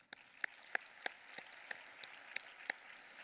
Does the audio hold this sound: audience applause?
yes